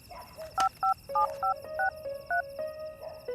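Telephone keypad dialing to call an ambulance: about nine short, clear dual-tone beeps in a quick, uneven rhythm, each a distinct electronic pip, with a sharp click near the start and a faint steady background.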